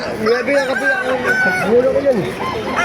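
A rooster crowing nearby, rising and falling calls repeating over a noisy background with other fowl clucking.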